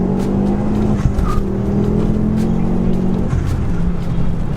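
A Stage 2 Ford Focus ST accelerates hard, its engine droning steadily at a rising pitch from inside the cabin, with brief breaks in tone like gear changes; loud and continuous, no speech.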